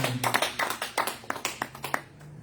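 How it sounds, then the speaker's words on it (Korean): A Korean church congregation at a Sunday worship service claps in a loose burst of distinct, close hand claps, fairly quiet, thinning out and stopping near the end over a low hum. "우리 하나님께 영광의 박수 올리겠습니다."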